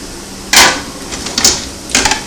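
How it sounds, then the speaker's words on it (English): Pears tumbling into a pot of pear cherry chutney cooking on medium heat, heard as three short clattering thuds spread over about two seconds, close and moderately loud, with no talking. "I'm just going to go ahead and put my pears in there now."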